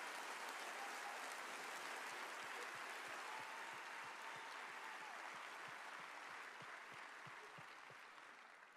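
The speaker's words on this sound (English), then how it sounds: "Let's give a round of applause for them." Sustained crowd applause at a leadership summit session, an even, dense rush of clapping that holds steady for several seconds before tapering off at the end.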